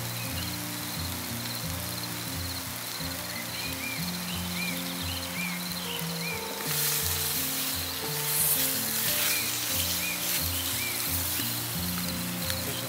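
Garlic and mixed Mediterranean vegetables sizzle over an open wood fire, a steady close frying hiss and crackle that swells louder midway, with harmonic music playing underneath.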